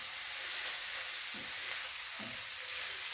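Small omena fish frying in a pan give a steady, soft sizzling hiss, with a couple of faint stirring scrapes and no voices.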